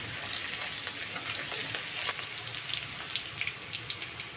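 Chili being fried in a pan for a macaroni pasta dish gives a steady, fairly quiet sizzle with soft crackling pops and faint watery spatter.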